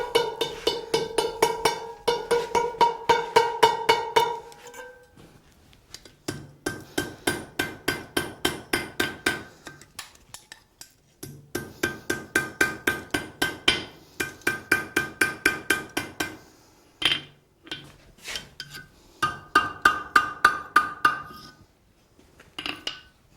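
A smith hammers a steel fire poker loop around the anvil cone, delivering quick, ringing metallic blows in several rapid bursts separated by short pauses, close and clear.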